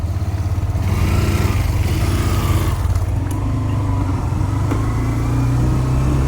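A car engine runs steadily close by while the car turns in a garden, a continuous low droning rumble with mild rises in revs throughout, no speech heard.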